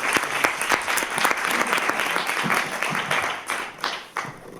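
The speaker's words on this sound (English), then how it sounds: "Please give a big round of applause." Audience applause greeting an artist introduced onstage at the Screen.Dance 2019 presentation, a dense, steady wash of many hands clapping close by for the whole stretch, easing slightly near the end.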